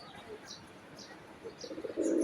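A silver bezi pigeon coos softly at a distance, with a few faint calls followed by louder, throaty cooing that builds toward the end.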